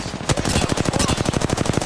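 Rapid automatic gunfire from a weapon in the Apex Legends video game, a steady stream of loud, closely spaced shots that starts abruptly after a brief pause and runs without a break to the end.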